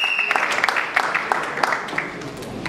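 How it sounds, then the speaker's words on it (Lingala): An audience at a charity foundation event applauds, a close, steady patter of clapping hands with uneven louder claps throughout. "je vous prie une fois de plus d'applaudir pour toutes ces personnes"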